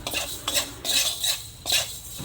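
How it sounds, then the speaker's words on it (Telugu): Mustard seeds frying with cinnamon, cloves and cardamom are stirred in a pan, giving four or five quick, close metallic scrapes over a light sizzle, with no speech. "చెక్క లవంగం యాలుక్కాయ ఒక స్పూన్ ఆవాలేసి బాగా వేయించుకోవాలి"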